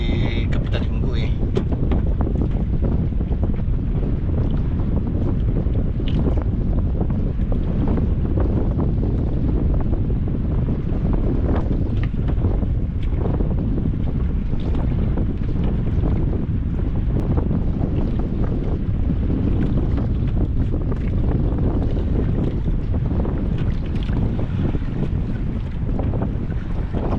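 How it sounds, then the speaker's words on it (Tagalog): Strong wind roars steadily across the microphone aboard a small fishing boat at sea, a constant loud rumbling buffet with faint water wash beneath, lasting throughout. "Hangin."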